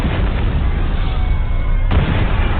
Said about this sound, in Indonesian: Seketika saat itu juga sebuah ledakan terjadi di rumah sakit